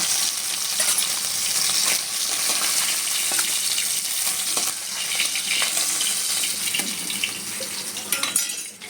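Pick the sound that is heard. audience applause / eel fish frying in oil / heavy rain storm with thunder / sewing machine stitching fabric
eel fish frying in oil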